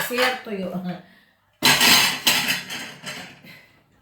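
Plates clink and clatter as they are arranged during household chores, several sharp close knocks of dishware following a stretch of talking.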